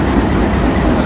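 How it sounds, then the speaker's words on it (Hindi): The 18 Down Millat Express, hauled by locomotive PH2811, rolls by loud and close with a steady rumbling roar and rail noise throughout the brief moment. "और ये रहा हमारा आज का लोकोमोटिव"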